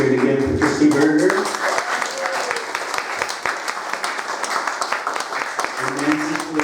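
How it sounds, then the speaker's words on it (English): Applause from a poetry open-mic crowd fills the room, a dense run of hand claps that carries under a speaker's voice at the start and again at the very end. "We're gonna have to get used to the clapping"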